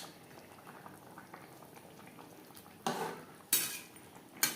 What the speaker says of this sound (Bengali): 3-4 মিনিট সবজি বেশ ভালো করে ফুটিয়ে নেব।